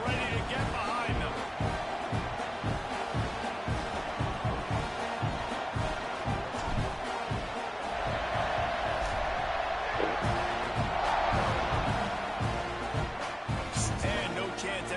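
A college football stadium crowd at an Oklahoma versus Texas A&M game roars and cheers around a kickoff, a broad sustained din with swells, under a commentator's talk.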